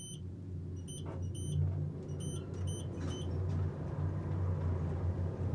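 A modernized Westinghouse high-rise elevator in an office building accelerating, heard as a steady low rumble and motor hum from inside the car, with a few faint high beeps and clicks overhead.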